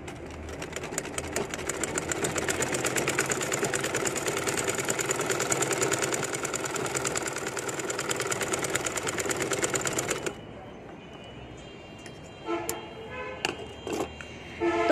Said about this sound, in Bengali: এখন আমি আপনাদের একটা সেলাই করে দেখাচ্ছি।